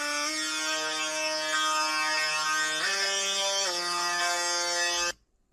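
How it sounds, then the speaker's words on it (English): A synth lead layer from a song's outro plays as a bright, buzzy sustained tone rich in harmonics, stepping up in pitch twice over a few seconds before stopping abruptly. "It's a layer of a synth that sounds like this."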